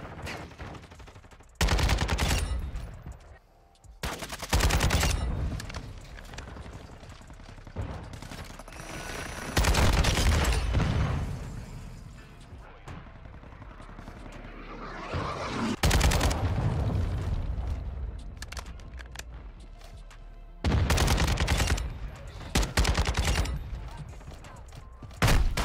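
Bursts of Kastov 7.62 rifle fire in Modern Warfare 2, loud, rapid strings of shots that start and stop repeatedly over a steady game background, with occasional talk.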